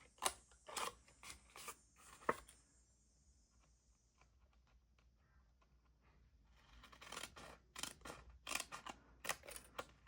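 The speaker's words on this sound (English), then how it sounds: "And then we're going to cut along that line." Scissors snip through paper pieces being cut along a marked line for a scrapbook album project, with crisp close cuts in quick bursts at the start and again near the end and a quieter pause between.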